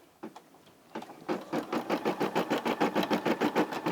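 A Brother SE600 embroidery machine stitches out Easter bunny eyes, starting with a few separate stitches before settling into a fast, even mechanical rhythm close by.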